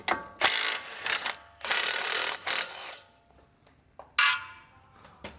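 An impact wrench removes the 18mm bolts holding an aluminum Brembo M-Sport brake caliper on a BMW F30, giving several close, loud rattling bursts of varying length with short pauses between them.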